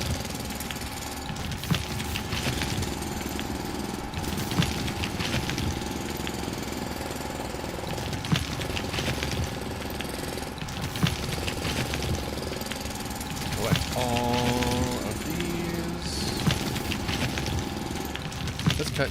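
A drilling machine in the factory-building video game Foundry runs continuously, a dense rattling, jackhammer-like mechanical roar with periodic clanks and a brief tonal chirp midway, loud and steady throughout.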